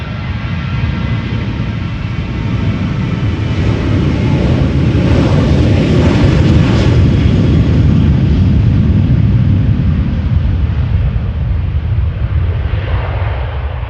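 A jet airliner taking off from runway 36L at Amsterdam Schiphol Airport, a loud continuous engine roar that swells and slowly shifts in pitch as it passes, heard outdoors from nearby.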